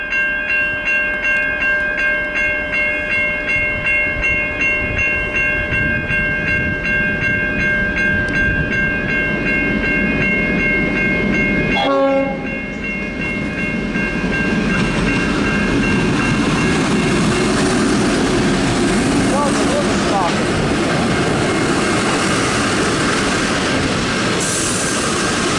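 A grain train rolls past close by on the Geelong grain loop, with steady wheel rumble and sustained high squeals, then a sharp burst of air as the emergency brake is applied midway, followed by loud grinding and hissing as it slows.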